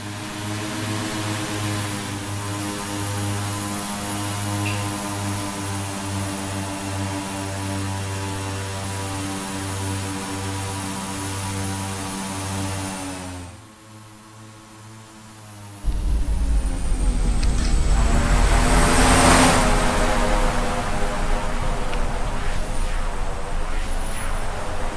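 An aircraft engine drones in a flight simulator game flown over Papua, Indonesia, a steady propeller hum with a brief dip midway before it returns louder and rougher.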